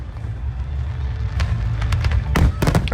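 Fireworks going off during a loud finale, a dense rumbling background with sharp crackling bursts clustering toward the end, loud and close.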